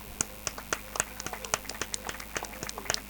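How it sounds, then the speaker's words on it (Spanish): A small crowd at an outdoor cultural memorial event gives distinct, moderately loud hand claps for Rosa Bru, the mother of Miguel Bru, in a loose, uneven patter that lasts a few seconds. "Un fuerte aplauso para ella."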